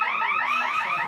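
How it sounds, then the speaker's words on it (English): A fire alarm rings loudly on its own during a yearly fire drill, a shrill, rapidly warbling electronic tone repeating without break. "and now there's a fire alarm"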